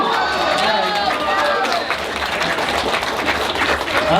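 Fan panel audience at a Type-Moon convention event bursts into sustained, loud applause mixed with cheering and crowd noise, with voices shouting over the clapping throughout.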